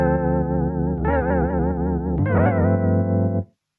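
Baby Audio Super VHS lo-fi multi-effect warping a sustained synth chord, with the pitch audibly drifting and wobbling before a jump to a new chord, then cutting off sharply near the end; no speech.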